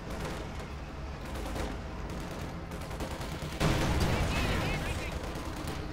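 Rapid assault rifle fire and scattered gunshots from a Company of Heroes 2 battle, dense crackling bursts that swell louder partway through, with a voice talking over the din.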